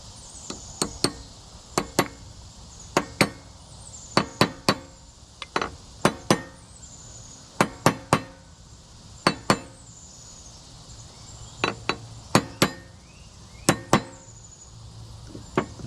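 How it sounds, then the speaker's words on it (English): Hammer tapping a bearing race into a pillar block, sharp metallic clinks in short clusters of two or three strikes, repeated at irregular intervals, close and crisp. "take this race and tap it in and see if we can get our preload"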